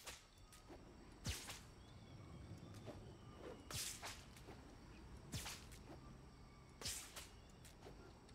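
Sharp whip cracks snap out four times at regular intervals, bright and punchy, over a steady low background rumble.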